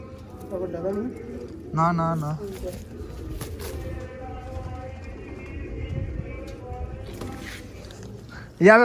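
Pigeons coo repeatedly at close range, soft throaty calls recurring through the clip with someone talking over them.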